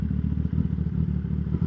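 Loud aftermarket exhaust on a car, a steady deep rumbling drone held close for under two seconds with no talk over it.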